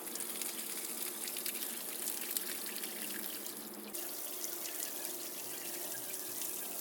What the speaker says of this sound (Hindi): तो अब उस वॉल को वापस खोल देता हूँ कि पानी भरता रहे साथ साथ।